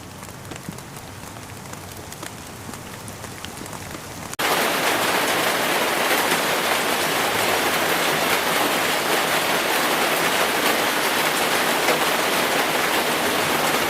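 Rain falls on an indoor forest ecosystem enclosure, starting light and then abruptly becoming a dense, loud, steady hiss of heavy rainfall that continues unbroken, with no voices.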